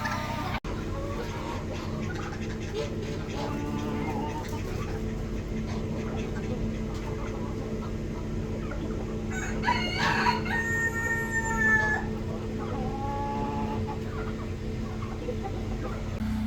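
Chickens and a rooster on a farm crow and cluck in short bursts over a steady low background hum, with the calls clustering midway through.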